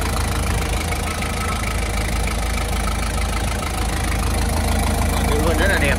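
A 2013 TCM 2.5-ton automatic forklift with about 3000 hours, in near-new condition, idles steadily with a smooth, even engine hum close by, a voice talking over it.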